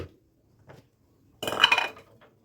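A tomato mixture for chicken kabsa is whisked in a bowl. A few faint taps come first, then one short, fairly close burst of utensil clatter against the bowl.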